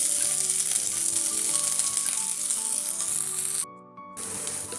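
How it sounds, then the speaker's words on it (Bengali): Green beans (borboti) frying in oil in a pan for a mixed vegetable curry, a loud, steady sizzle that briefly drops and then returns, with no talking. "বরবটিগুলোকে আমি প্রথমে ভেজে নিই।"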